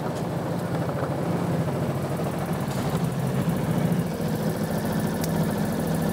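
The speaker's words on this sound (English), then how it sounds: "Motor's nice and quiet." A Vespa GTS scooter engine idles on a lift after a full overhaul, giving a steady, low, even hum with light vibration that holds at constant loudness throughout, with no voices.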